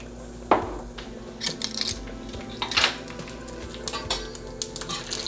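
Half a teaspoon of mustard seeds dropped into hot oil, giving an initial sharp crackle followed by scattered pops and spits over a faint background sizzle.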